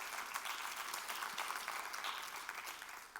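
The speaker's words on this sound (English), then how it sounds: "I just want us to put a big round of applause for the W Hotel and the Jaida family" A conference audience at the Art for Tomorrow 2017 event at the W Hotel claps steadily, a dense, even wash of applause throughout with no voices on top.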